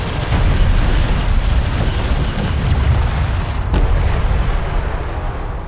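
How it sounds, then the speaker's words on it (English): Gunfire and explosions from the real-time strategy game Homeworld: Deserts of Kharak form a dense, continuous battle roar with heavy low rumbling, a steady barrage throughout and one sharp crack near the end, with no talk. "Armored vehicle is taking fire."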